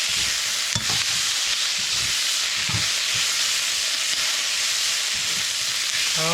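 Tomatoes fry in a pan with bitter melon, shrimp and dhal, producing a constant bright hiss and sizzle up close with a few soft stirring knocks underneath.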